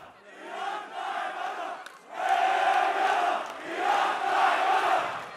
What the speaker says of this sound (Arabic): كانت قد شهدت التظاهرة هتافات وصفت حزب الله بالإرهابي